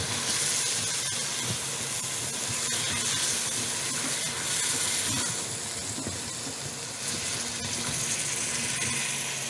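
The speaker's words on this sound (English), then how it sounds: "We're going to turn our heat down just a little bit because it's sizzling" Steady hissing sizzle, like food frying in a hot pan, continuous and fairly loud throughout with no voices.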